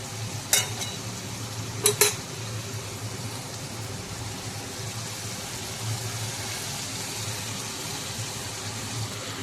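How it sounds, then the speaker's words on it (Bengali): Snake gourd (chichinga) frying slowly in a pan, a steady low sizzle throughout with two brief sharp clinks of a utensil early on, no talking. "আসলে চিচিঙাটা ভাজা হতে অনেক বেশি টাইম লাগে, তাই আস্তে আস্তে ধীরে ধীরে ঢেকে ঢেকে ভাজতে হবে"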